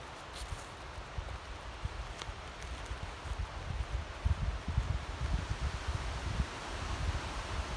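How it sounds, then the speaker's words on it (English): Strong wind blowing through the Pine Barrens, a steady broad rushing roar with gusty low buffeting against the microphone that builds slightly toward the end, with no talking. "listen to that wind. It's really whipping."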